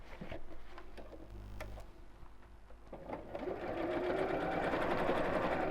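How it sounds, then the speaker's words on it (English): Domestic sewing machine stitching a tote bag seam through fabric, interfacing and handles, a steady rapid mechanical whirr that starts softer with a few clicks, then runs louder and continuous near the end, with no talk. "it's not too much for my sewing machine to go through"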